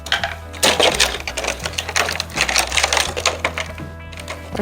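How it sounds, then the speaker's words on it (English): Scissors crunch and snip through a cardboard egg carton, close and busy, in a run of crackling cuts with no talking. "I'll cut this egg carton up."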